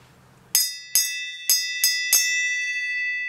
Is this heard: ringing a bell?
yes